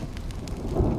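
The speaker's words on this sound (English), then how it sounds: "When will this rain ever stop?" Rain in the video game Honkai Star Rail, a continuous dense patter with a low rumbling undertone that thickens toward the end, heard alone without speech.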